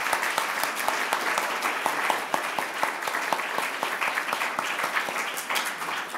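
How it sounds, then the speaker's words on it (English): Audience applause during a government minister's speech at a conference welcoming Hong Kongers, with brisk, dense clapping from a room full of people that holds steady and fairly loud throughout, with no talking. "Let's give that a round of applause."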